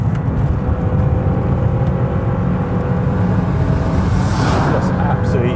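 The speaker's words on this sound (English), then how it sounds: "This is an absolute standard car, completely original, so it's quite quiet, as you can probably tell." A completely original, standard Lancia Delta Integrale Evo II drives through corners, its engine a steady, fairly quiet rumble with continuous road and wind noise throughout.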